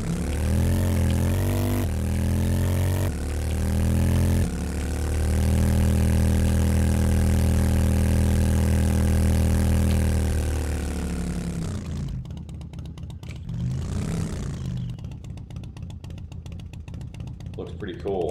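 Rumbling vehicle engine idling in the game 7 Days to Die, a steady loud drone with strong low harmonics that holds for several seconds before breaking into noisier, rougher bursts.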